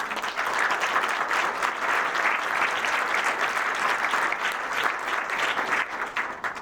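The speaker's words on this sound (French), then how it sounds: "Vous pouvez les applaudir." An awards-ceremony audience applauds the game publishing houses, with even, sustained clapping from a sizable crowd that stays steady throughout and tapers slightly at the end.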